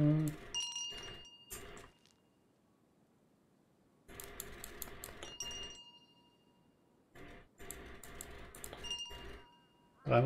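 A bell in the horror video game Lunacy rings in three clanging bursts, each a cluster of bright metallic dings with short decays, separated by quiet gaps.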